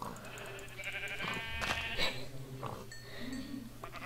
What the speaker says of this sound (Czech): Ovce.